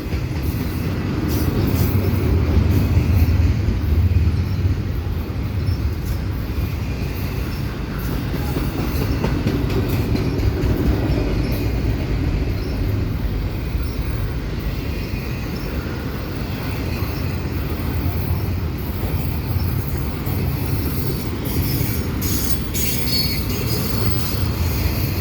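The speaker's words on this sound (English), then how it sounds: "stack trains here at Dorval are pretty much a daily occurrence" A CPKC freight stack train with CP and KCS locomotives rolls past at Dorval: a long, steady, heavy rumble with rail clatter and occasional faint wheel squeal, loud and continuous throughout.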